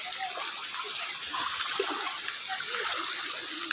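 Someone wades through floodwater covering a village road, producing continuous close splashing and swishing of water, with no speech.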